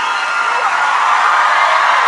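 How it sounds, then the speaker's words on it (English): A dense, steady wash of crowd applause and cheering for the coaches at a live show, continuous and loud throughout with no breaks. "Please keep that applause going, everyone, for our superstar coaches"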